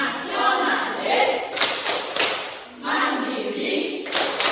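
Schoolchildren in an Indonesian classroom clap together in a rhythmic group routine, several loud bursts of many hands in a regular pattern, close and lively, with young voices chanting between the claps.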